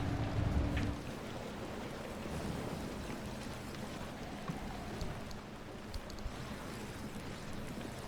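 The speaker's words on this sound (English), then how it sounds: "The rain's really loud, so I can't hear the radio" Heavy rain pounds down in the Pacific Drive game, a dense, steady hiss with scattered louder drops and a low rumble briefly under it at the start, with no voices.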